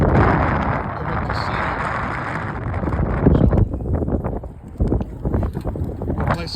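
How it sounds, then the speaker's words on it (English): Strong, steady wind buffets the microphone with a low roar and gusty rumbles throughout. "It's windy."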